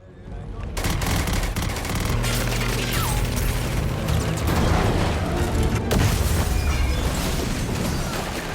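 A bomb detonates at a power plant, heard as sustained loud booming and crackling blasts after a brief quiet start, dense and continuous through the clip with a short dip near the middle, mixed with a dramatic soundtrack.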